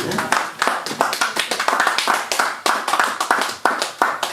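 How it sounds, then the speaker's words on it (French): Audience clapping at a nightclub event in Sarcelles with DJs and MCs, sharp claps in a loose, fairly steady rhythm that is close and loud, with voices mixed in. "Si vous pouvez applaudir très très fort pour eux"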